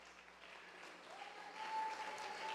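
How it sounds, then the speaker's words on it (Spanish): A church congregation applauds together during a Sunday-morning service, a steady wash of many hands clapping at moderate distance that swells slightly toward the end, with a faint tone held underneath. "Y tu pueblo que lo cree te da un fuerte aplauso"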